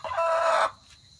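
A hen in a backyard chicken enclosure gives a single short squawking cluck, loud and close, then fades into quiet.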